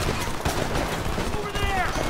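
Gunfire in the video game Homefront comes in sharp, rapid shots and bursts, mixed with other game sounds and a voice.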